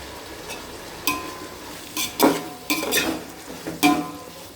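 Mint and coriander leaves sautéed in a pan for vegetable biryani, with scattered stirring scrapes and light metallic clinks of a utensil against the pan, fairly close and quiet, without talk.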